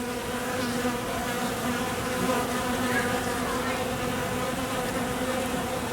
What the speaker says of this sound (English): That's the sound of a lot of drones flying around.